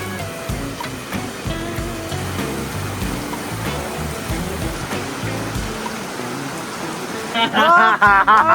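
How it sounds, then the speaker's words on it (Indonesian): Heavy rain pours down on a Mount Salak trail via Pasir Reungit, a loud, steady hiss of water that fills the whole stretch, with a voice breaking in near the end. "Salak hujan segede-gedenya"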